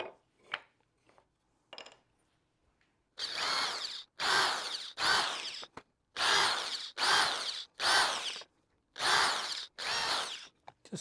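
A power drill with a small countersink bit recesses screw holes in wood for a Honda Element camper build: about nine short whirring bursts in quick succession, close and fairly loud, after a few faint clicks.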